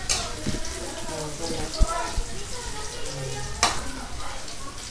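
Onions sautéing in a pan for chicken curry give a steady close sizzle with occasional stirring knocks and scrapes, and a voice talks faintly in the background.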